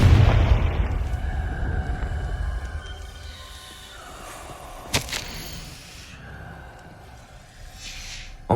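A Confringo blast spell goes off in Hogwarts Legacy, a heavy low boom that opens loud and rumbles away over several seconds, with a sharp crack near the middle and a soft ambient game background.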